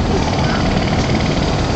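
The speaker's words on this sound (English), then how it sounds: "I hear a helicopter." A loud, continuous rotor roar with a dense rumbling wash of noise, as if a helicopter is passing close overhead, heard from the Empire State Building observation deck in New York.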